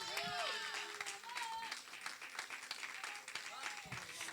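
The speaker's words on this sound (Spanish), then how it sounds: "eso merece un aplauso" A church congregation applauds during a sermon, a continuous busy patter of clapping from a crowd heard at moderate distance, with voices calling out over it.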